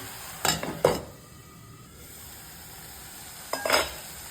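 Tomatoes and green peas sauté in a pan for poha tomato bath, with a low steady sizzle broken by two short bursts of spoon stirring and scraping, near and clear, no voices.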